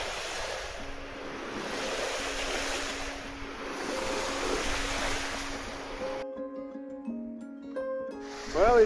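Dixon 65 sailing yacht motoring along calm sea off Genoa, Italy; steady rushing wash of waves and wind noise around the hull, with a low engine hum, before the sound abruptly gives way to musical tones.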